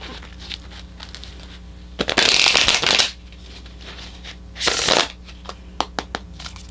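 Oracle cards shuffled in two loud bursts, a longer riffling flurry followed a couple of seconds later by a shorter one, with a few light taps and handling sounds between them and no talking.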